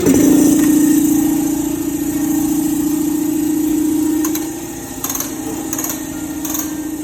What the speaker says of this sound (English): let's see if I can get my air compressor running